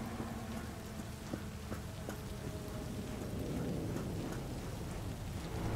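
Steady rain with distant rolling thunder in the video game Cyberpunk 2077, a continuous hiss of downpour with low rumbles underneath and scattered sharper drops, no voices.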